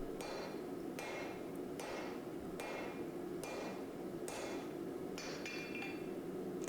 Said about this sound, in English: If you listen really close to the hammer strikes, you can hear a different noise